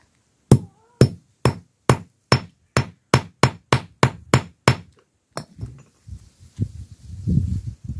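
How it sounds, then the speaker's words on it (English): A hammer strikes a bent piece of metal laid on a hard surface to straighten it, about a dozen sharp loud clanks in quick steady rhythm, followed by quieter scraping and shuffling handling noise. "I'm gonna try and straighten this out just by putting it this way on a hard surface and hitting it with the hammer"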